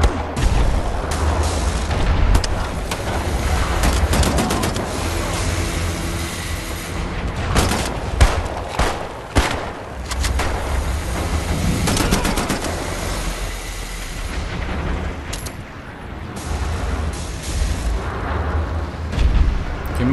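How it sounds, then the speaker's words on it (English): In Wolfenstein: The New Order, artillery and heavy gunfire pound away continuously for about twenty seconds, with loud booms and rapid bursts layered into a dense, roaring barrage. "Artillery."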